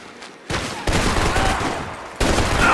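Sustained automatic gunfire in the Max Payne 3 shootout roars close and loud, continuous bursts rising in intensity with a brief lull before resuming.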